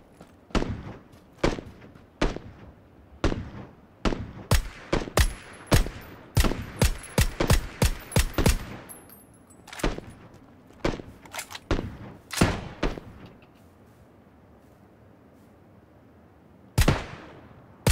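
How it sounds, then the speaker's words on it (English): Rapid gunfire in the battle-royale game PUBG: dozens of sharp cracks in uneven bursts and single shots, some close and loud, others fainter, thinning out toward the end with one last loud shot. "Taking heavy fire."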